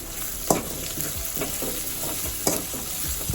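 Mint and curry leaves stirred in hot oil in a frying pan for Telangana bagara rice, a steady sizzle broken by sharp spatula scrapes and clacks, two louder knocks standing out, close and without voices.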